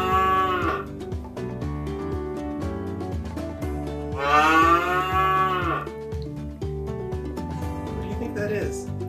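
A cow moos loudly twice, long and drawn out, in an animal sound guessing game for a kids' church program; both calls sit over steady background music.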